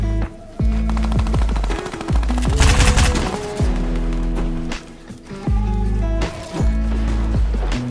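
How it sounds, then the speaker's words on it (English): Loud gunfire in Fortnite, repeated bursts of rapid shots and blasts with gliding and movement sounds underneath, in a dense, continuous game soundscape. "I'm getting shot at, bro."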